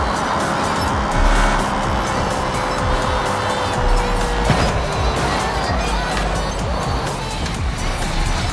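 V8 engine of an ETK S series car mod in a driving video game, a steady loud drone with shifting revs and a brief tire squeal, continuous throughout with no talking.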